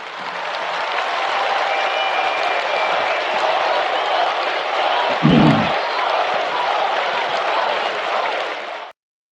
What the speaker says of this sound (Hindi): आप जोर से तालियां बजाकर उनका फिर से अभिवादन कीजिएगा।